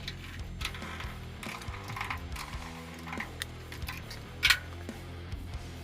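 Screws being backed out of a Chevy Squarebody truck tail light, heard as close, quiet ratcheting clicks and mechanical ticks in an irregular rhythm, with one sharper clatter near the end.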